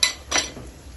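Garlic goes into a frying pan of onions for a sarson ka saag tempering, giving two short clattering bursts about a third of a second apart, with quieter pan noise after.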